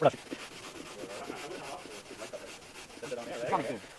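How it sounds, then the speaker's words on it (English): A cast epoxy resin block is sanded by hand in soft, short rubbing strokes, quiet and close, with a few faint scrapes. "I'm just going to take this and I'm going to start sanding"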